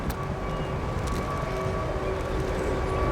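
An Airbus A380 airliner taking off from Warsaw Okęcie airport, heard as a steady, loud broadband jet roar with a faint whine, continuous throughout.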